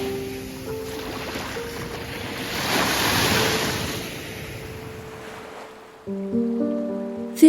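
Surf washing onto a soft white sandy cove at Villasimius in southeast Sardinia, a steady broadband roar swelling to a peak midway, then easing, with some wind buffeting the microphone and a brighter layer near the end.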